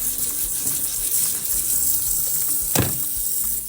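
Hands being washed under a running kitchen tap while a family meal is prepared, a steady gushing splash of water throughout with a brief louder surge near the end.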